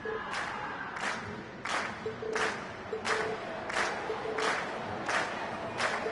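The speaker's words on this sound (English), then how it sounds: "And we've heard your cheers loud and clear." A crowd in the Trails of Cold Steel video game cheers and applauds at the end of a stage performance, with loud rhythmic bursts of clapping and shouting about every half second over a steady roar.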